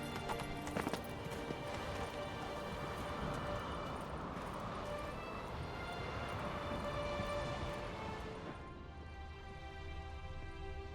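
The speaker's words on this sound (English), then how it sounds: "Run, Roach." A horse gallops in the video game The Witcher 3, its hooves drumming steadily under a thick layer of game music for about eight seconds before the pounding stops and quieter ambience remains.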